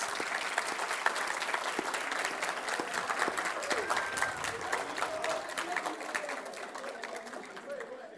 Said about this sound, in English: let's give a thunderous round of applause to all of our winners today, as well as to every participant